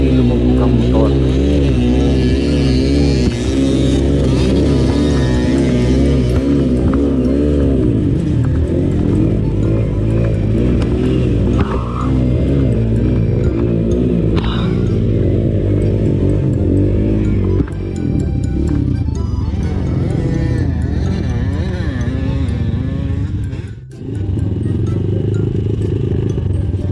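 A motorcycle riding through a river revs and churns loudly for a long stretch, with splashing and clattering, while a person talks intermittently.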